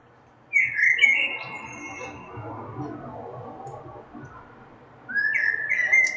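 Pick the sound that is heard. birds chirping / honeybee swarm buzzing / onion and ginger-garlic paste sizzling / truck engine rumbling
birds chirping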